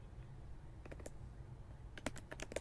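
Keys on a computer keyboard are tapped at close range, first a few scattered strokes and then a faster burst of typing over a low background hum.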